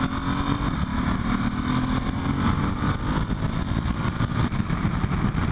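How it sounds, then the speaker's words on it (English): A Ducati or Triumph motorcycle cruises in third gear at low throttle, its engine a steady, even drone mixed with wind rush throughout, with no talk. "Now just maintaining a nice normal 3rd gear low throttle input here is just effortless."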